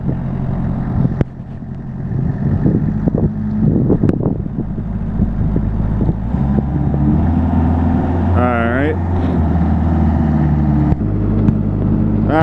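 2009 Finn T90 hydroseeder engine idling loud and close in winter, a steady low rumble with wind buffeting the microphone and people talking over it.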